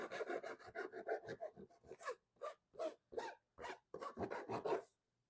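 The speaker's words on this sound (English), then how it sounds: "With a metal file like this, you'll be able to get it all smooth." A metal file rasping along the cut edge of a plastic rear bumper on a 2019–2023 Subaru Forester during a trailer hitch install, a quiet series of quick rhythmic strokes, some pausing between.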